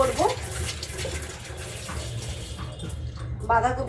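Tap water runs steadily as things are washed under it, a continuous splashing gush with a few clinks and bumps, close and fairly loud.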